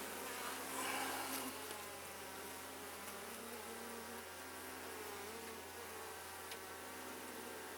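Honey bees drone in a soft, continuous buzz around an open hive, a faint steady hum throughout with no voices.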